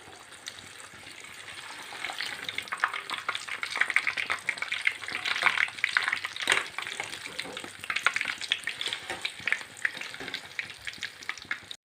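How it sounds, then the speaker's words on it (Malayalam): Sukhiyan snacks frying in hot oil, a steady close sizzle and crackle that swells as the pieces are turned, with occasional faint stirring sounds. "നമുക്ക് ഇതിൽ ഫ്രൈ ചെയ്യും."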